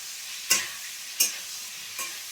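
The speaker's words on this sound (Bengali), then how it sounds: "আমি এগুলো ভালো করে ভেজে নেব" Aubergine pieces being stirred in hot oil in a pan, three sharp scraping stirs roughly every 0.7 seconds over a soft continuous sizzle, close and alone.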